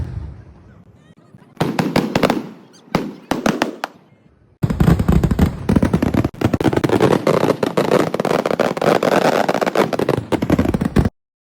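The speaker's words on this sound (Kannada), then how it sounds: "ಸ್ವಲ್ಪ ಹೊತ್ತಲ್ಲಿ ಪಟಾಕಿ ಹೊಡೆಯೋದು ಸ್ಟಾರ್ಟ್ ಮಾಡಿದ್ರು ಅವರು." Firecrackers at a church feast fireworks show in Kerala: a few sharp bursts of rapid popping, then a long, loud, dense barrage of crackling explosions, with a faint crowd murmur beneath.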